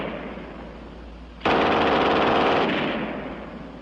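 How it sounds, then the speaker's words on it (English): A German MG 42 machine gun mounted on a tripod fires one long, loud, continuous burst that starts abruptly after a brief quiet stretch and then slowly tails off. "And last, the German 42 on the tripod."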